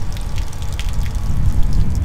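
Water mixed with pink antifreeze runs from an RV faucet, a steady close splashing gush with some dripping throughout.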